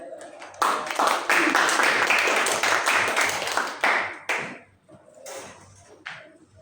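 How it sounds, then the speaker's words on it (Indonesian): Students in a high school classroom clap for their classmates, a short, fairly loud burst of hand claps that rises quickly, holds, then tapers into a few scattered claps and quieter room sound. "Beri tepuk tangannya dulu untuk teman-temannya."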